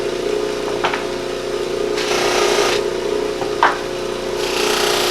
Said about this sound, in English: I will polish it here so you can see, but what happens, the polish gets into the pores.